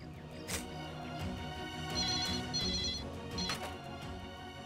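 A telephone rings with repeated electronic trills, fairly quiet against a busy background of clatter and hum, no speech.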